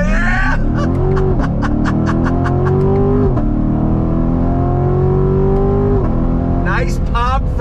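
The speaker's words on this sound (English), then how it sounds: "Nice pop from the exhaust." A Chevrolet Corvette Grand Sport with an 8-speed automatic accelerates hard under full throttle. Its engine note climbs through several quick upshifts, with sharp exhaust pops at each shift, loud and close, and excited speech over it.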